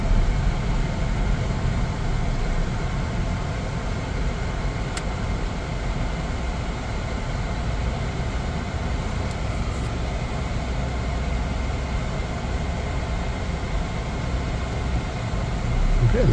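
Steady interior road noise inside a 2024 Chevrolet Trax 2RS while driving, a broad continuous rumble and hiss that holds even throughout with no talking.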